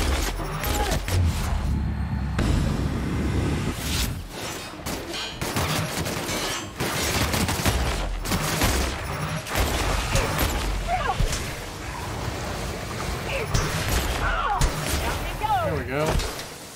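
Gunfire in The Outer Worlds video game, a dense run of sharp shots and bursts spread across the whole stretch, mixed with thuds and effects while a voice talks intermittently over the combat.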